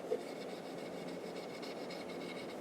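A clean cloth rubs steadily across the wooden body of a violin, making a soft, continuous close-up swishing rasp with no talking.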